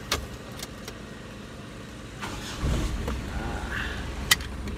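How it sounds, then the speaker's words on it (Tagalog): A car engine idles and then swells as the car is driven into a service bay for an oil change, with a low steady rumble, faint clicks and a sharp knock near the end. "Ililipat lang natin yung sasakyan natin dun sa bay na yun."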